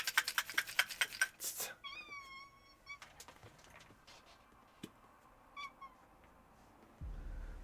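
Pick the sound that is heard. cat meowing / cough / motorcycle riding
cat meowing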